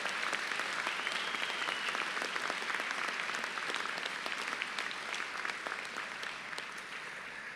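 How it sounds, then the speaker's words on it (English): Sustained applause from a commencement audience honoring a graduating class, dense and continuous clapping from a large crowd that stays loud and steady before easing slightly at the end. "give the whole class another round of applause"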